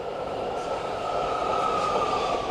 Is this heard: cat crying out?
no